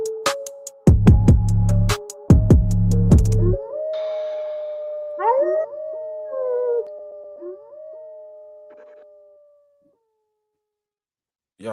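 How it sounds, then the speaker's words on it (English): A wolf or dog lets out long, wavering howls that rise and fall, following a run of loud, ringing chimes at the start, then trailing off into silence. "Y'all know to put them goddamn howls in there."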